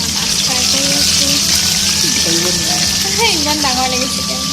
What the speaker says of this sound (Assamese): এয়া মাছ ফ্ৰাই কৰি আছোঁ